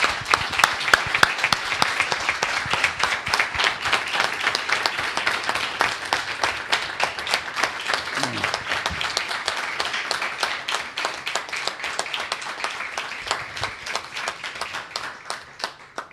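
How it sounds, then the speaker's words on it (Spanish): A seated audience applauds a legal speaker at a public law conference, with sustained dense clapping that holds steady for many seconds and slowly thins toward the end. "Pido un cálido y fuerte aplauso para el doctor Casañi."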